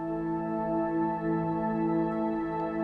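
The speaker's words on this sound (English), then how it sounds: "Nice cool pad sound." A sustained, warm synthesizer pad holds a steady layered chord, smooth and even throughout, with no voices.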